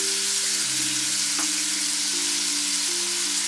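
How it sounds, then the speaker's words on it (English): Shrimp sizzle and fry in a pan with a continuous close crackle, while faint steady tones hum underneath throughout. "We're just gonna cook it, cook the shrimp."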